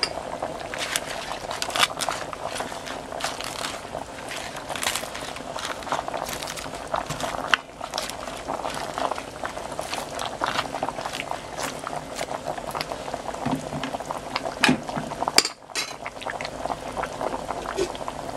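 Pork pochero soup with pechay and saba banana simmering in a covered pot: a continuous bubbling, popping boil close by, with a voice talking over it for much of the time.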